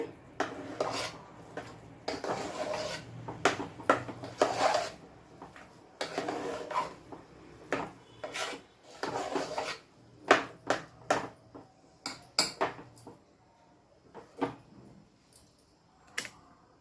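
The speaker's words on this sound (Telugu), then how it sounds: "ఇప్పుడు మామూలుగా గెంటి తీసుకొని ఒకసారి ఇలా కలిపెట్టేసి మొత్తం కలిసిన తర్వాత ఆ వైట్ రైస్ రాగి పిండి మొత్తాన్ని కలిసేటట్టు చేయండి" A ladle stirs white rice and ragi flour together in a pot for ragi sangati, giving repeated scraping clinks and knocks against the pot in an uneven rhythm, close and moderately loud, with no talking.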